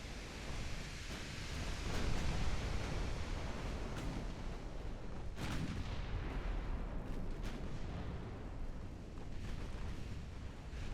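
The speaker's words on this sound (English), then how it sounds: "we are just now pelting their battleships" Naval gunfire between battleships in the Ultimate Admiral: Dreadnoughts video game: a continuous rumbling barrage of booming shots and explosions with several sharp reports standing out, loud and without talk.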